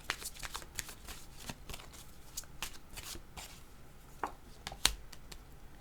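Tarot-style cards are shuffled and drawn for a reading, giving soft riffling and flicking taps close to the microphone, with a few sharper snaps of cards being laid down, fairly quiet overall.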